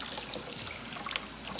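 Gentle trickling water rinsing the chest of a Yorkie puppy during a bath, a soft, close, continuous dribble with small splashes.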